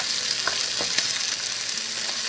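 Carrots go into a hot pot for an Irish beef and lamb stew, setting off a steady, close sizzle with a few sharp clicks and spatters over about two seconds, with no talking.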